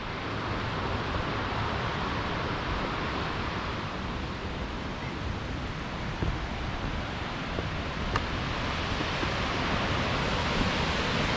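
A waterfall at Tallulah Gorge pours as a steady, loud broadband rush of falling water, constant and unbroken throughout with no voices over it.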